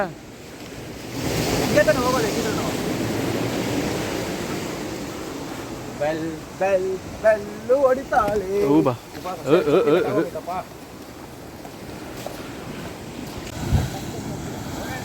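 Ocean waves wash onto Paradise Beach in Gokarna in a steady, rolling roar, with gusts of wind buffeting the microphone. People talk over the surf partway through.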